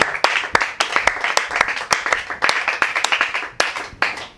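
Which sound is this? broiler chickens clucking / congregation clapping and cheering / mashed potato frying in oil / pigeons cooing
congregation clapping and cheering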